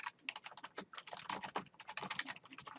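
Quick, continuous typing on a computer keyboard, a dense rapid patter of close, crisp keystrokes with no voices.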